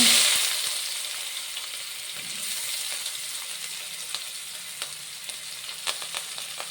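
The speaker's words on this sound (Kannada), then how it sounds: "ಎಣ್ಣೆ ಬಿಸಿಯಾಗಿದೆ ಈರುಳ್ಳಿ ಮತ್ತು ಹಸಿಮೆಣಸಿನಕಾಯಿ ಹಾಕ್ತಾಯಿದ್ದೀನಿ" Onion and green chilli frying in hot oil for fried rice, a steady close sizzle that starts loud and settles into a continuous crackling hiss with scattered pops and light stirring taps.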